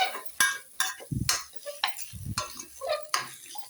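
Chicken bharta ingredients with cumin powder and salt are mixed by hand, giving irregular close scrapes, soft knocks and stirring sounds against the cookware, with no talking.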